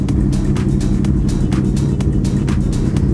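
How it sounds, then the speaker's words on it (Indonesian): A modified Yamaha R1 lowrider motorcycle warms up at idle, giving a loud, steady, close engine rumble marked by regular sharp ticks and pops. "Kita panasin dulu aja si R1"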